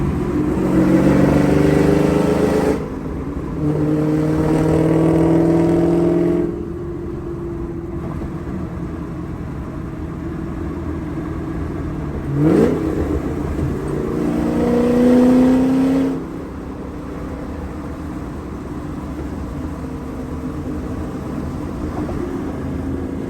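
A Chevrolet Camaro SS with a Corsa X-pipe exhaust drives along, its loud engine rising and falling through several revving pulls and downshifts, with the steady exhaust drone broken by brief quieter gaps between gear changes.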